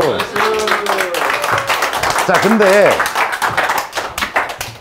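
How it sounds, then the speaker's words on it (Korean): Clapping from a few people present during a golf swing lesson on a recording set, heard as a short burst of hand claps mixed under ongoing talking. "굿, 박수."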